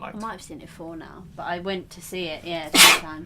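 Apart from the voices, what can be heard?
sneeze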